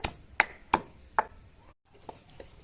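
Garlic and salt are crushed with a pestle for vamu aku chutney: four sharp, close pounding thuds at an uneven pace, then a short pause and several softer strikes.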